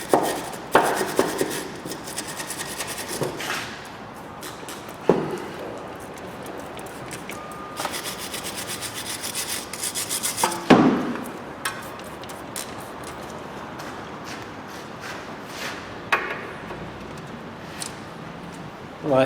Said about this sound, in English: Bit of a wire brush, try and get rid of some of this crud.